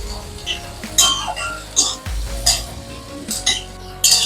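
Sliced onions stirred in a cooking pan for a Bengali home dinner, with intermittent metal clinks of a spoon against the pan and scraping, close and moderately loud, interrupted by a cough or throat clearing.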